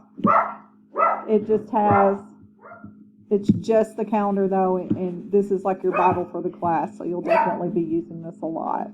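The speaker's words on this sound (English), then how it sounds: "Please excuse my dog." A dog barks in the room, several sharp yaps and whimpers scattered through nine seconds, loud and close, overlapping someone talking steadily.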